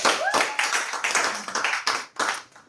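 A room full of people claps in broken bursts, a group round of applause with short gaps and swells, fairly close and a little uneven, faint voices mixed in.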